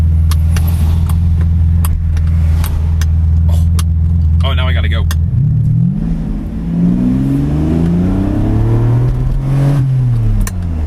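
A Ferrari 575 with a gated manual gearbox drones steadily at speed, then its engine note dips and climbs as revs rise through the gears, loud and close, with someone speaking briefly over it.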